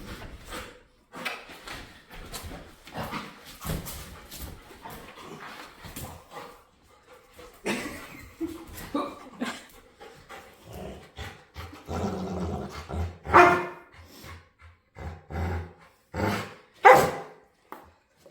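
A playful dog barks and growls in short, loud bursts, with scuffling and thumps between them while it begs to play. The sounds come close together and irregularly, then turn into louder barks near the end.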